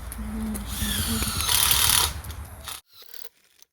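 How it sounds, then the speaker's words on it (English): A power drill whines steadily for a few seconds, drilling holes in a log for growing shiitake mushrooms, with high, grinding mechanical noise, then stops abruptly, leaving quiet rustling. "I'm doing the log that I drilled."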